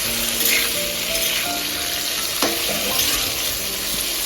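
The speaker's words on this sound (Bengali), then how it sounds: "আলুটা হালকা হালকা ভাজা হয়ে যাচ্ছে" Potato pieces fry in hot oil in a pan for a Bengali vegetarian dish, giving a loud, close, steady sizzle with a few stirring scrapes and clinks partway through.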